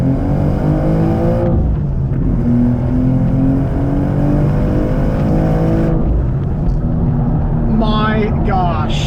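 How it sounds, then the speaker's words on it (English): A G87 BMW M2 pulling hard from first gear, the engine roaring loudly and climbing in pitch through the revs, with a brief upshift and then a second rising pull, heard from inside the cabin. "let's do a pull from first gear here"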